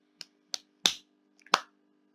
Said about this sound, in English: And clapping to it, because that's what I do.